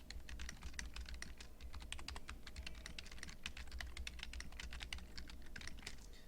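Steady, rapid clicking of keys on a computer keyboard as a question is typed, continuous and fairly quiet with no talking.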